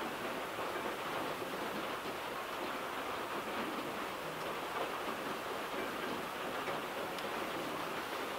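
Rain falls steadily outside as a continuous, even hiss of dense drops, with no talking and no change in intensity throughout.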